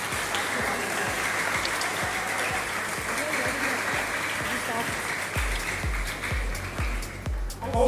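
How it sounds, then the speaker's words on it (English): A crowd claps in sustained applause for parents at a national school finals event, dense and steady, with a rhythmic thumping beat entering toward the end. "Round of applause for the parents."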